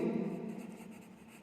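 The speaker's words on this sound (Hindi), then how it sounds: "इसका आंसर मैं यहाँ पे लिखता हूँ।" Chalk or marker scratching across a board as a teacher writes out an answer by hand, a steady close scraping that fades slightly toward the end, with no talking.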